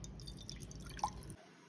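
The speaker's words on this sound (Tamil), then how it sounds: "ஒரு கடாயில் கொஞ்சம் தண்ணி ஊற்றிங்கோ." Water poured into a kadai pan runs as a soft, continuous stream for just over a second, then cuts off abruptly, heard up close and alone.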